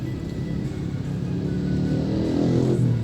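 Dense Monday morning traffic on the Gamping–Maguwoharjo northern ring road, cars and motorbikes packed together, a steady low rumble of engines that builds slightly toward the end with no voices.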